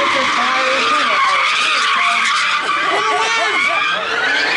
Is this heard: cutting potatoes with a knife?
no